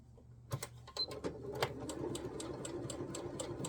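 A sewing machine stitches fabric scraps at a quarter-inch seam, running as a fast, steady mechanical whir with a few sharper clicks and knocks near the start, alone and at close range.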